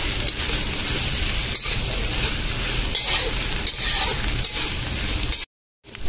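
Mixed vegetables for noodles sizzle loudly in a hot pan while a spoon stirs and scrapes through them, a dense crackling hiss with brief knocks, cutting off abruptly near the end.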